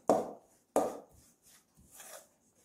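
A spoon mixes flour and water in a bowl for pie dough: two firm scraping strokes close up, then a few softer, quieter scrapes.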